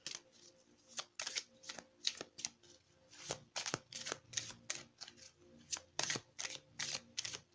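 Tarot cards shuffled up close, a quiet run of quick riffling snaps and flicks in uneven bursts, with no talk.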